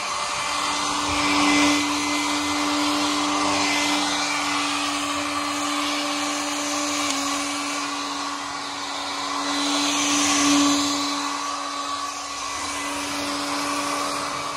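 A hair dryer blows hard into an air conditioner unit to push dust out, a loud, steady close whine and rush of air that swells slightly twice, with no talk over it.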